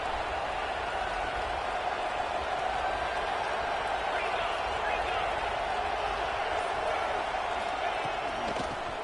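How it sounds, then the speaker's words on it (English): Steady roar of a large crowd cheering in a college football stadium, a continuous wash of loud cheering and noise with a commentator's voice running over it. "It's early, but this crowd is fired up. Listen to this noise here."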